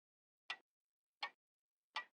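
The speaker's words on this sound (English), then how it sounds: "the small clock in Baby Dumpling's bedroom has ticked away a good many of the dark" A small bedroom clock ticks softly in a quiet room, three evenly spaced, crisp ticks about three quarters of a second apart, staged as a radio drama sound effect with nothing else audible.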